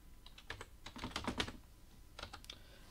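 Keys on a computer keyboard tapped in short irregular bursts while a value is typed into a FreeCAD spreadsheet, close and fairly quiet, with no talking.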